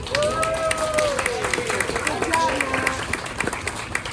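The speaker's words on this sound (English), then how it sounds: "This is when everyone claps" Audience applause after a glassblowing demonstration at Chihuly Garden and Glass: light, scattered clapping from a small crowd mixed with background chatter and other hall noise, moderately distant.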